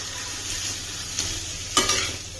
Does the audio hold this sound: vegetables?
yes